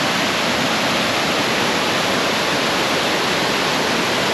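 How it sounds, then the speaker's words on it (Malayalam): A small waterfall fed by mountain streams near Bonacaud pours steadily close at hand, a loud, unbroken rushing hiss of falling water with no voices over it. "അപ്പോൾ നമുക്ക് ഇതാണ് വെള്ളച്ചാട്ടം, ചെറിയൊരു വെള്ളച്ചാട്ടം."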